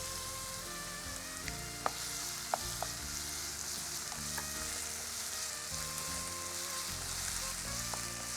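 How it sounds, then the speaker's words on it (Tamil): Onions frying in a pan with ginger and garlic, a continuous close sizzle under a low background hum, with occasional light clicks of stirring. "இது வதங்கிட்டு இருக்கும்போதே நமக்கு இஞ்சி பூண்டு அதில் போட்டுடலாம்."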